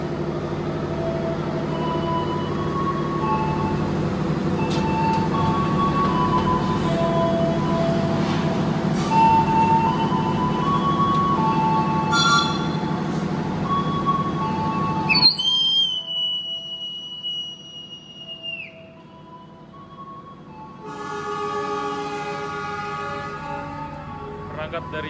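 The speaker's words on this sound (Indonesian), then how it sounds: "Berangkat dari stasiun Sukabumi, memulai perjalanan lanjutan dari Bandung menuju ke Jakarta." The KA Siliwangi passenger train departing Sukabumi station in Indonesia, a steady low rumble of engine and wheels giving way to a sharp, loud horn blast, then quieter rolling with faint tones near the end.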